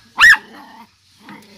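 One loud, close dog bark at a home, followed by a low rumbling growl and a shorter, softer bark-like grunt.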